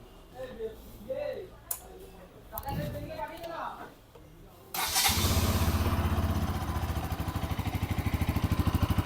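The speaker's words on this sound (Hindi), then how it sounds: "तो अभी मैं स्टार्ट करने वाला हूँ बजाज पल्सर NS 200 को।" A Bajaj Pulsar NS200 motorcycle starts up after a few seconds of someone talking nearby, then settles into a loud, close, steady idle with a rhythmic pulsing beat.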